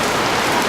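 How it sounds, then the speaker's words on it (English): Heavy tropical downpour in rural Ethiopia, a dense, steady hiss of rain pounding the ground and roof, loud and unbroken for the whole brief moment. "All of a sudden, it is just downpouring. The rain is coming down."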